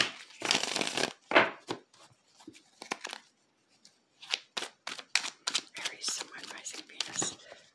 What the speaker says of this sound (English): Now I can shuffle them.